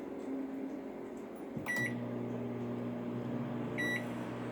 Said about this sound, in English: And then I go and get the microwave on.